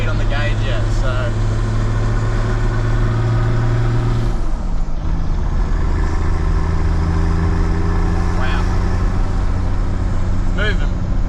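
A car engine idles steadily after an engine swap, a deep continuous rumble with a brief dip partway through before settling back, while people talk over it.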